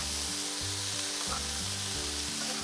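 Frozen green beans coated in spices sizzle loudly in a pan while being stirred, a dense continuous fry with a low rhythmic rumble underneath and no talking.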